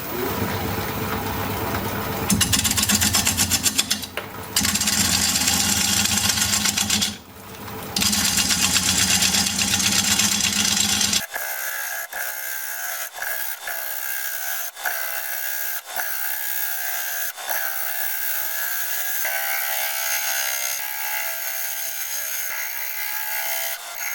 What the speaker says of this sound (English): We're going to be turning with the 5/8 inch bowl gouge